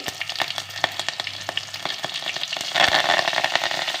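Mustard seeds, cumin and a green chilli crackle in hot ghee for a kadhi pakoda tempering: a steady sizzle dotted with sharp seed pops, swelling into a louder burst of spattering near the end.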